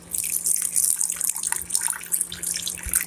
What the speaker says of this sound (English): I'll just add in some of this water here, just to soften up that chicken breast a little more